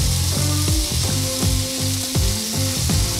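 Garlic frying in a pan with mayo, lemon juice, salt and pepper nearby for Parisian steak frites, a steady loud sizzle broken by repeated scraping stirs in an uneven rhythm, close and without talk.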